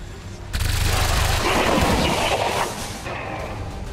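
A rifle fires in XCOM 2, setting off a loud, dense blast of gunfire that holds for about two seconds before fading into a lower rumble.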